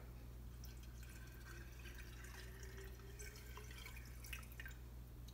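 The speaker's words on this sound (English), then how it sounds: "Just pour it right down in there." Water poured into the reservoir of a Mr Coffee steam espresso and cappuccino maker, filled to the four-cup line, a faint steady trickle and drip lasting several seconds over a low background hum.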